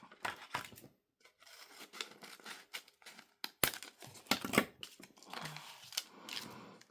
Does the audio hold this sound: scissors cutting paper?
yes